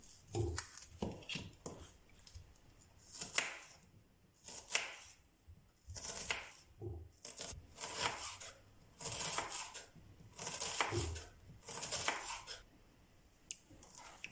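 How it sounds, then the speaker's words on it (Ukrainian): Knife chopping onion into small cubes on a board for a herring-under-a-fur-coat salad, a series of close, sharp irregular chops and scraping clatters in bursts with short pauses, no talking. "Цибулю нарізаємо дрібненькими кубиками."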